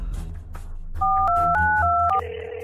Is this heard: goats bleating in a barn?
no